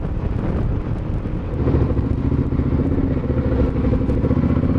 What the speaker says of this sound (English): Great seeing the great big line of bikes behind me.